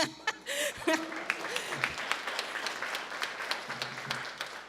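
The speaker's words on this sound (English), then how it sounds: "I hear that clap." Town hall audience in Allentown clapping during a progressive rally with a congressman, a thin, moderate patter of hands in the room with some laughter and voices mixed in.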